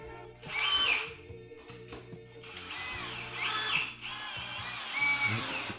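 A power drill with a 1/2 inch bit drives Phillips-head screws into a Samsung Frame TV bracket above a fireplace, in several whirring bursts of rising and falling pitch separated by brief pauses.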